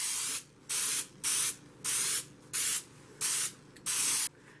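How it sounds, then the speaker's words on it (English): Flour-containing cooking spray hisses from an aerosol can into a cake pan in seven short, sharp bursts at a regular rhythm, close and fairly loud, with brief silences between them. "So I'm going to spray because this right here has flour"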